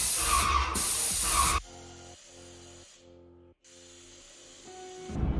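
A new Titan airless sprayer blasts PVA drywall primer in a loud hissing burst at the start, then goes quiet apart from a faint intermittent pulsing hum from the unit.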